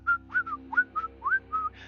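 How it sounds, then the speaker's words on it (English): A person whistles a short, bright tune of about eight quick notes with small upward slides, close and clear over a low steady hum, with no talking. "just kind of whistle my way across the way"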